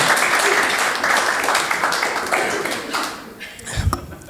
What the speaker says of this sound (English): That does deserve a round of applause.